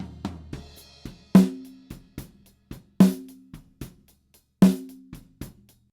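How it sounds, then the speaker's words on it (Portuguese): An original snare drum recording, dry and uncompressed: a sparse, uneven pattern of sharp hits, with a few louder accented cracks ringing briefly among softer strokes and some bleed from other drums in the microphone. "Esse é o som da caixa original."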